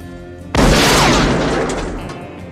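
A single loud blast erupts suddenly, a rifle shot exploding a can, whose booming rumble decays slowly over the next two seconds.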